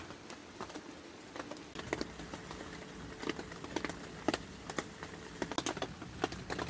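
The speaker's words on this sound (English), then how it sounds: "It's so relaxing listening to the rain on the tarp." Rain falls on a tarp overhead in autumn, faint scattered taps and pattering drops over a quiet background, irregular and close, with no voices.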